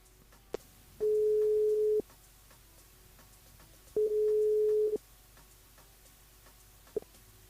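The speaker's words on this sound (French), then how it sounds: "on appelle Mélinda et ce sera donc le dernier appel" A mobile phone ringback tone on the line: two long steady purrs about a second each, spaced three seconds apart, with short clicks around them.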